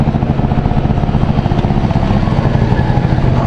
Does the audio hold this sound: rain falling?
no